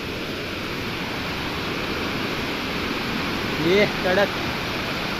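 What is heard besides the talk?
waterfall rushing water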